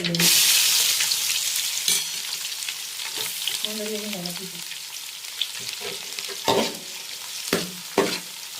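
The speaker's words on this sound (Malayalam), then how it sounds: "സവോള ഇട്ടു അതിലേക്ക് വെളുത്തുള്ളി ഇടുന്നു" Sliced onion, garlic and ginger fry in hot oil with mustard seeds for a Kerala-style beef fry. A loud sizzle opens, then settles into a steady crackle broken by sharp spoon scrapes and clanks against the pan.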